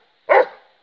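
A single close dog bark rings out sharply and then decays quickly into silence.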